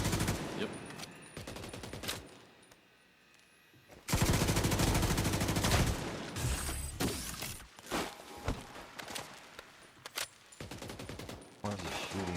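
Bursts of gunfire from The Division 2 video game crackle through a firefight, rapid volleys broken by a short lull, then resuming loud and dense, with occasional speech in the mix.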